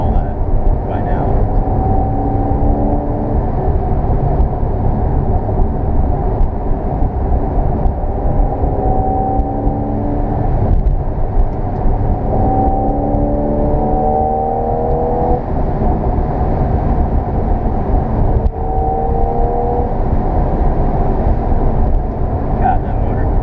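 A 2014 Porsche 911 Carrera engine drones loudly from inside the cabin, its pitch climbing and dropping again and again as it revs up through the gears.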